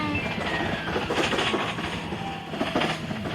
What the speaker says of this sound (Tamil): Aha train Parakkuthu guys